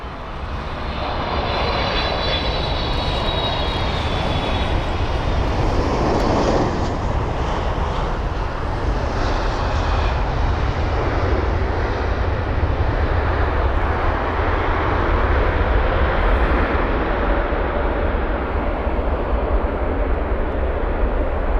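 A China Eastern Airlines Boeing 777 arrives at London Heathrow, its engines a loud, steady broadband roar that holds close and constant for about twenty seconds with a faint whine early on.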